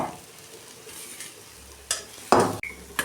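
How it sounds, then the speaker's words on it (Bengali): Pointed gourd mash is stirred in a pan, giving scraping, sizzling sweeps with a few sharper clanks of the spoon against the pan toward the end. "ভর্তাটা যতক্ষণ না কড়ার গা থেকে উঠে আসে ততক্ষণ নেড়ে নেড়ে শুকনো করবেন।"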